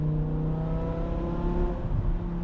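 A BMW M5 V10 engine with its muffler deleted revs loudly with a deep, raspy, unmuffled drone that rises and falls steadily for a couple of seconds, with no one talking.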